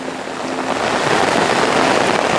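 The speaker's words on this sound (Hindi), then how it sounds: "ये ऊपर जो जंगल से पानी आ रहा है ना, ऊपर पहाड़ों से जंगल से होते" Runoff water from a brief rain flows down from forested hills above a Punjab village, a steady broadband rushing that stays close and constant throughout, with no talking.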